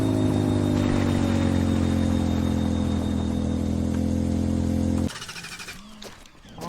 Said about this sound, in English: the rotary makes the funniest sound when it turns off